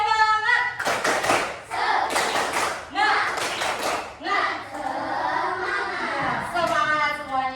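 A classroom of children claps a rhythmic Indonesian cheer, bursts of sharp hand claps in quick patterned groups alternating with the teacher and children chanting along.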